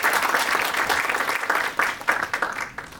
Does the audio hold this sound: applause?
yes